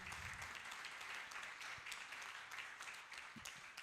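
Audience applause, steady and fairly faint clapping from a crowd at a book launch event that continues evenly throughout.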